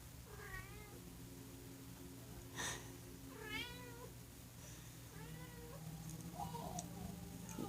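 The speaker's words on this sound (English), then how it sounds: "It's my cat." A domestic cat meows several times at spaced intervals, quiet and close in a calm indoor room, with soft background hum between the calls.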